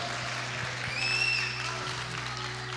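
Steady applause from a church congregation throughout, with a brief high whistle or squeal rising above it near the middle.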